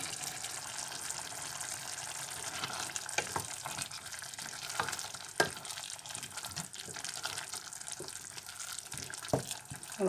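Elubu greens with young onions cook in a pan, giving a steady, low hiss of sizzling with a few soft stirring clicks and no voices.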